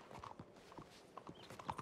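Horse hooves clip-clop in a video game, a quiet, light irregular patter of hoof knocks with a few faint tonal blips, no voices present.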